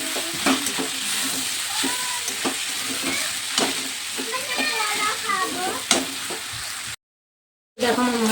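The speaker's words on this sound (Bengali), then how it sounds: "তো এখন মশলাটা কষে নেব" Mustard paste mixed with chilli, turmeric, cumin powder and salt frying in a pan for a potato chorchori: loud, close sizzling with scraping stirs and clicks, faint background voices, then a short cut to silence.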